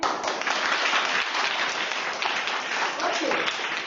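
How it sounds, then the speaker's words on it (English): A classroom of children claps for a classmate, a dense, even patter of many small hands filling the whole stretch, close and sustained, with faint voices mixed in underneath. "Clap for Ravi."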